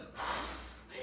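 A voice imitates the wolf huffing and blowing hard at the pigs' house, a single long, breathy gust of air, close and fairly loud.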